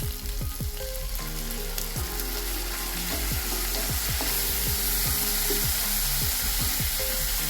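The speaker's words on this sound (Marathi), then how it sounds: "आता आपण ह्याला 1 मिनिटासाठी चांगलं परतून घेऊ" Capsicum stir-fried in a pan for chilli paneer, a continuous close sizzle with repeated scraping and knocking strokes of a spatula against the pan.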